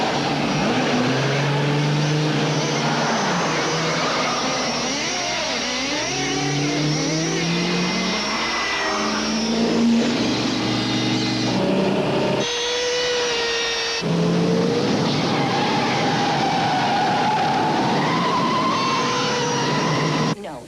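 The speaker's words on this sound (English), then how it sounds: "the famous car chase in Bullet is parodied when Harry's car is chased by a tiny model car that has plastic explosives inside" A tiny explosive-rigged model car chases a full-size car in a Bullitt-style movie chase parody, with loud, continuous whining and revving engines and a shifting tonal score throughout.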